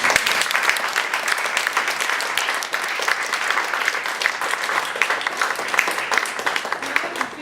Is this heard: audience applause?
yes